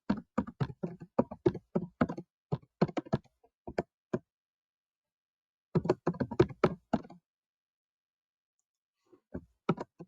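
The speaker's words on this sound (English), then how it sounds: "typing in the URL." Quick bursts of key clicks on a computer keyboard as a web address is typed, coming in short uneven clusters separated by brief pauses, close and fairly quiet.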